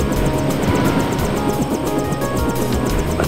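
Helicopter in the video game Deus Ex, a loud steady rotor roar with a fast rhythmic chop close by, alone with no voices.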